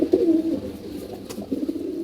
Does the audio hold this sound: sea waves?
no